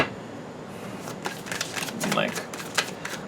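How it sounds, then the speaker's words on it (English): Tarot cards shuffled by hand, close up: a few quick riffling, flicking bursts against a soft background hiss. "Let's pull some more cards."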